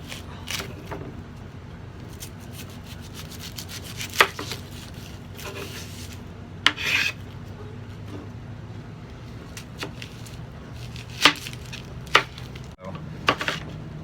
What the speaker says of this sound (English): So the first thing I'm going to do is start preparing the onions.